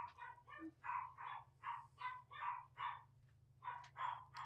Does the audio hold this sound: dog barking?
yes